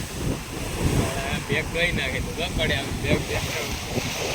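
Strong wind buffets the microphone at a seashore as rough sea waves churn continuously, with small boats nearby and a voice talking over the steady roar.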